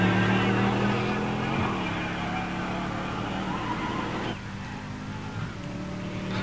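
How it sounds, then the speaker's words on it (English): Engines roar loudly and steadily from a 1987 Buick Grand National and a 1966 Corvette at a pure stock drag race, with a dense harmonic growl that shifts pitch midway as the cars accelerate down the strip. "And red lighting in the far lane is Bill Therion driving John Shellhorn's 66 Corvette"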